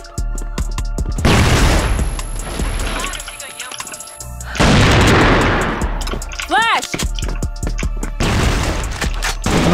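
A flashbang grenade bursting in the shooter game CrossFire, loud booms and crackling blasts amid gunfire, with players shouting over the chaos.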